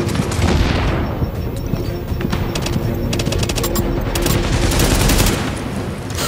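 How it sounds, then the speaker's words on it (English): Gunfire in the video game The Division at a refugee camp, a loud, dense barrage of rapid shots and blasts that runs without a break, with a voice faintly present beneath it. "Oh my God, who is shooting me now?"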